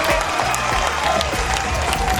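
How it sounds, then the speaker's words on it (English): Audience applause at a real estate regional rally, a brief dense burst of clapping from a crowd filling the room, loud and close with faint voices mixed in. "Let's give a round of applause for Leo here, come on."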